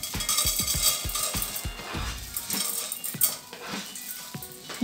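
Small hard grains of rice pour and rattle into a metal saucepan, a dense scattering clatter with a few sharper clinks, close and steady.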